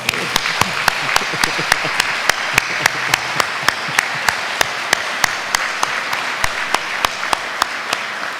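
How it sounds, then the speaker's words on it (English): Audience at a university press conference announcing an R2 research designation claps for a governor: a continuous patter of hands in a room, with a regular train of sharp, evenly spaced clicks cutting through it for about eight seconds. "let's give Governor McMaster another round of applause"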